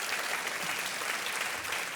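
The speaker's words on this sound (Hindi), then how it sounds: "मैं आग्रह करूंगा जनता से कि वो ताली बजाते रहें" A studio audience on a TV quiz show, Kaun Banega Crorepati, claps in steady, continuous applause heard on its own without voices.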